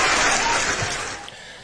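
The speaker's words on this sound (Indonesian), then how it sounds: "coba tepuk tangan doang" A short burst of clapping from a small group at a debate between young Muslims and young Catholics, dense and close at first and then fading over under two seconds.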